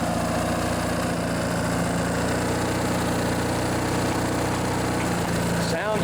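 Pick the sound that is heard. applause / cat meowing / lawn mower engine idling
lawn mower engine idling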